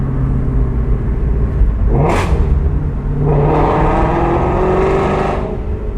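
A Shelby GT350 Mustang's engine roars loudly at close range as it revs through an underpass, with a sharp rising burst of revs, then a sustained, echoing growl under acceleration.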